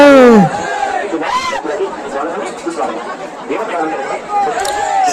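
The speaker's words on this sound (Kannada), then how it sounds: "ಎಲ್ಲರೂ ಮೋತಕಪಲ್ಲಿ ಬಲಭೀಮಸೇನಿಗೆ ಜೈಕಾರ ಆಗ್ತಾ ದರ್ಶನಕ್ಕಾಗಿ ಸರತಿ ಸಾಲಿನಲ್ಲಿ ನಿಂತಾರೆ ನೋಡ್ರಿ" Devotees at the Sri Mothakapalli Balabhimasena temple fair, queued for darshan, raise cheers and chants amid close, loud crowd chatter, with a sharp cry at the start and voices rising and falling throughout.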